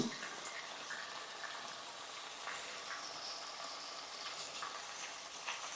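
Fish pieces fry in a pan of hot oil for a tamarind fish curry, giving a steady, fairly quiet sizzle that runs unbroken throughout with no talking.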